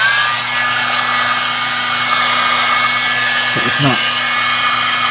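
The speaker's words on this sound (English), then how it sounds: "take the heat gun and turn it on" Heat gun running beside the logic board of a 2007 15-inch MacBook Pro A1226: a loud, steady airy whoosh with a constant hum, holding level throughout, while someone speaks briefly over it.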